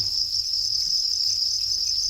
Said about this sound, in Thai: จิ้งหรีดพันทองแดง ร้ายครับมันขึ้นมา กินอาหารนะครับ